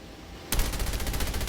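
Rapid automatic gunfire from the mobile shooter game Call of Duty Mobile bursts in suddenly after a quiet moment, a fast, loud, evenly spaced stream of shots.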